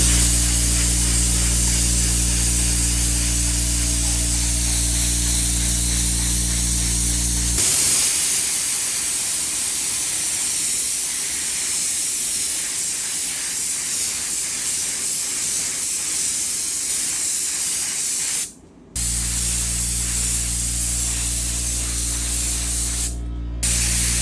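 Spray gun laying a white coat of paint onto sportbike wheels on a small rig, a loud steady hiss lasting most of the time with a brief cut near the end, no talk.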